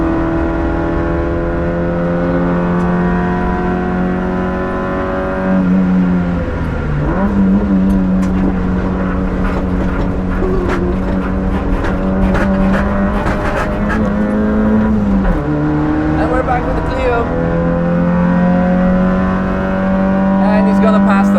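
A fast Lotus race car on the Nürburgring approaches and roars past, heard from inside a screaming Nissan Micra K11 whose engine drones steadily throughout, with the passing car's pitch rising and falling over the constant cabin noise.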